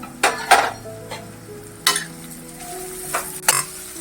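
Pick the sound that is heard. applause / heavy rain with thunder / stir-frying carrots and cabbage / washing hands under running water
stir-frying carrots and cabbage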